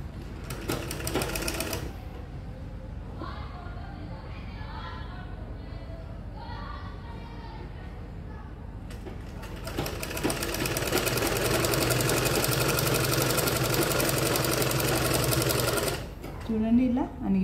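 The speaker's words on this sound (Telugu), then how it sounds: "ఇప్పుడు నెక్ కూడా సేమ్ అదే విధంగా కుట్టు పెట్టేస్తున్నాను ఇక్కడ" A sewing machine stitches the neck of a double-body blouse, running in a short burst, pausing while a person talks, then whirring steadily and rapidly for several seconds up close.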